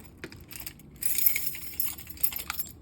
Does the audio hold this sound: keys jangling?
yes